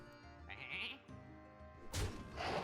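A sheep bleats in a wavering, nasal cry in the game Hearthstone, followed by a second louder, harsher bleat near the end, clear and close against a steady background.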